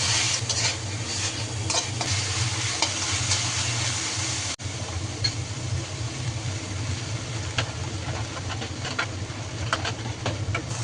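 Vermicelli tossed with grated coconut and a little salt fries in a pan, a steady close sizzle under repeated scraping strokes of a stirring spoon, with a brief break midway.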